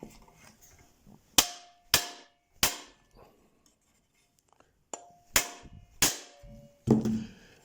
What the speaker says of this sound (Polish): Będę musiał tutaj chyba młotkiem przeatakować.